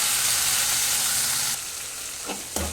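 Mustard seeds, urad dal, cumin, crushed garlic and onion frying in oil for a sambar, a strong, close sizzle that drops in level partway through, followed by a couple of stirring scrapes in the pan.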